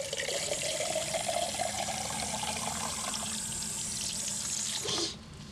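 Well water contaminated with explosive levels of methane and heavy metals runs steadily from a tap into a sink, a continuous close hissing splash that cuts off near the end.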